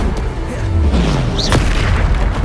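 A single deep magical explosion from the Bombarda spell in the video game Hogwarts Legacy booms out loudly, with a sharp burst and a trailing rumble amid busy game sounds.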